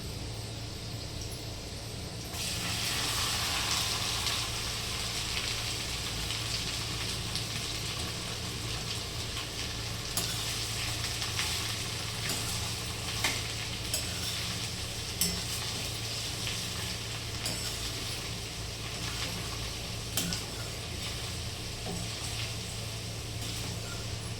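Okra fries in a pan with garlic and curry leaves, a loud continuous sizzle that swells after a quieter start and carries on steadily with occasional stirring clicks, no voices.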